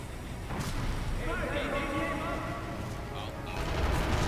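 Gunfire and heavy booms roll through a continuous noisy battle bed in the co-op shooter Sniper Elite V2, with a few sharper reports standing out over the dense din and a voice talking over it.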